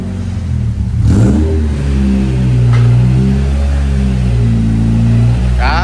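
A Peugeot 205 GTI with a swapped Honda K20 engine revs hard on a dyno and holds at high RPM, droning loudly and steadily with rising and falling pitch.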